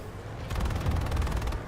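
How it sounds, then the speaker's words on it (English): Rapid automatic gunfire in the Planetside 2 video game, a burst of steady repeated shots starting partway through and continuing to the end, fairly loud with a low rumbling background. "gunshots heading this way"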